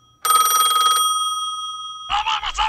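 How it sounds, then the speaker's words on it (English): A telephone rings with a bright, trilling electronic bell for about a second and then rings out into a fading tone. A voice follows briefly afterwards. "Will someone please answer this phone?"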